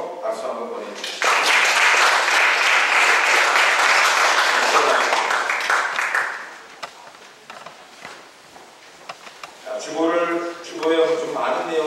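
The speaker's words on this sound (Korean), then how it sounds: "다시 한번 잘 섬겨주십사 하는 마음으로 박수 한번 보내주십시오." A church congregation claps at a Sunday service in a long burst of dense applause that swells, holds for about five seconds and fades, before a voice speaks at the end.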